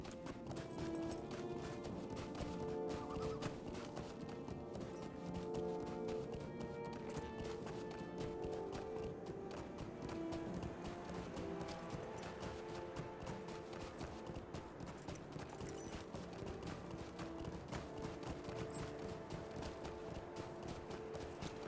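Horse galloping in Lord of the Rings Online, rapid rhythmic hoof clip-clops repeating steadily for the whole stretch, fairly quiet, with occasional snorting and a faint whinny.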